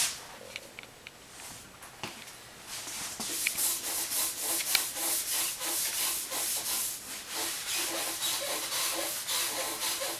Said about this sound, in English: We put the stain on with the brush